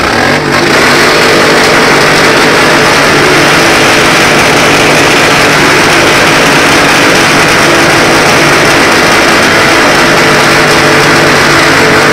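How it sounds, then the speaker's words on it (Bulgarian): Several motorcycle engines started and revved together, a loud, dense, sustained roar close by that barely varies, with no voices heard above it. "Палете всички мотори!"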